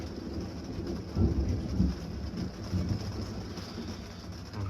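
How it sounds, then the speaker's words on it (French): Rain with hail falls outside during a thunderstorm in Le Bugue, Dordogne, a steady hiss of downpour with low thunder rumbles swelling twice, moderately loud and without voices. "je crois qu'on a eu un peu de grêle. En plus de la pluie."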